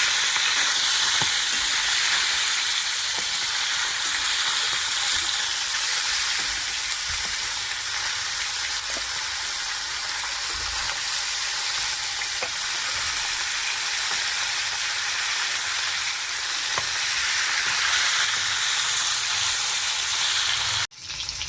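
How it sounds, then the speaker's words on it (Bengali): Fish pieces fry in hot oil with a steady, loud sizzle and hiss, punctuated by occasional light clicks and taps, ending with a brief clatter. "ভালো করে ভেজে নিয়েছি মাছটা"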